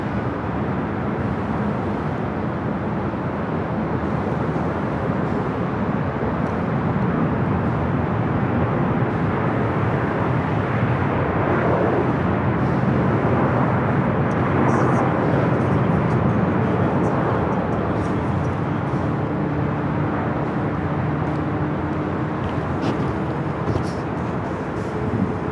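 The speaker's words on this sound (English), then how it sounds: "Get this flight 8 coming in from Tokyo, Haneda. It's a Delta" Delta A350-900 jet arriving at Los Angeles International Airport from Tokyo Haneda, a steady broadband engine roar that swells gently through the middle, heard from a distance with no clear talk.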